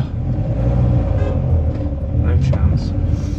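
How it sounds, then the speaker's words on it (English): Vehicles crawl in stalled traffic near a car park at night, seen from inside a camper van, a low continuous engine rumble with a faint rev and passing car noise under occasional talk. "Traffic in that direction, going nowhere"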